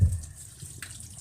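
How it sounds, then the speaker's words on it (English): Vegetables being washed under a running tap make a short burst of flowing, splashing water that starts loud and then settles into a steady trickle. "wash your vegetables"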